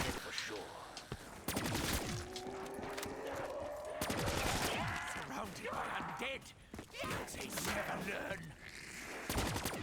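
Rapid gunfire with fireworks alternate ammo from a zombies video game crackles in repeated bursts and pops, with a voice talking over much of the shooting.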